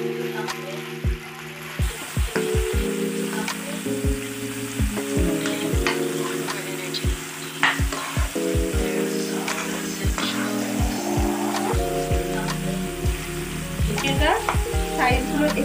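Chicken pieces frying with garlic in a pan, a loud continuous sizzle with repeated clinks and scrapes of stirring throughout, and tonal background music running underneath.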